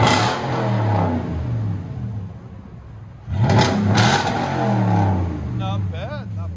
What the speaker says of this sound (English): That's Black Widow. Black Widow Race Venom 112 again.